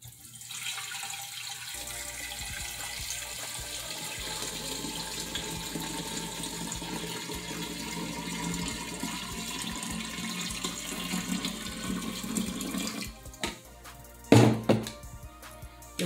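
Tap water pours in a steady, hissing stream into a jar holding lemons for sun tea, running for several seconds before stopping, followed by a few hollow thunks and knocks.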